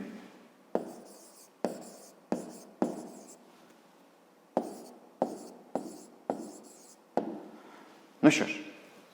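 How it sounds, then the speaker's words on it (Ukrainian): Pen strokes writing out a math answer by hand on paper, about a dozen short scratchy bursts in an uneven rhythm, close and fairly quiet, ending with a slightly louder scrape. "Записуємо тоді відповідь."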